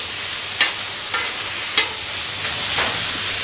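Liver frying in butter in a pan: a steady, soft broadband sizzle with a few brief louder spits and crackles, close by, with no voices.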